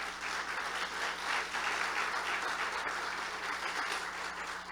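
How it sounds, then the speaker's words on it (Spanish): A church congregation gives the mothers a loud, sustained round of applause, dense and even from start to finish, with no voices over it. "Denle un fuerte aplauso a cada madrecita."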